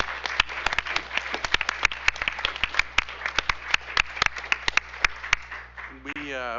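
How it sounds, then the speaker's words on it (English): People at a school district board meeting applaud, a thin scattering of distinct, sharp hand claps from a smallish group in a room, with a voice briefly heard as the clapping ends. "Let's give them a round of applause."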